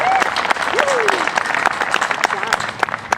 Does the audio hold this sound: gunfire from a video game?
no